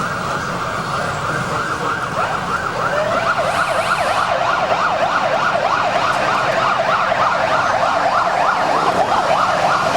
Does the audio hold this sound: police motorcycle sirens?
yes